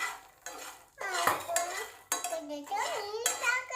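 Makhana (fox nuts) are stirred in butter in a pan, a few close scraping and clattering strokes under a voice speaking throughout, with brief pauses between bursts.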